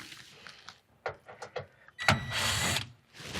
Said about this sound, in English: There's a couple screws around the top here we're going to remove.